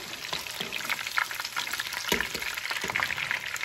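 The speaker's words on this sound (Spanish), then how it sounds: "Para que vean que ya terminé de sofreír el pollo." Chicken pieces being sautéed in hot oil for sweet and sour chicken crackle and sizzle loudly up close, with occasional clacks of a utensil stirring the pan.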